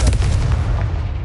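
A Confringo blasting spell explodes in the Hogwarts video game, one loud, close, booming blast with a deep rumbling tail and no voice.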